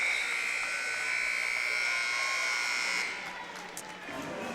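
The end-of-game buzzer at a high school boys basketball game between Madison Southern and Bourbon County sounds as a loud, steady electronic tone for about three seconds, then cuts off into crowd noise.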